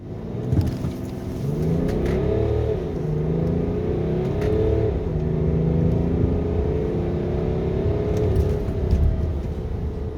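A 2008 BMW X5 3.0d E70 diesel, chipped to about 235+ hp, accelerates hard with a loud engine note rising through the gears, pitch climbing and then dropping at each shift, heard from inside the cabin.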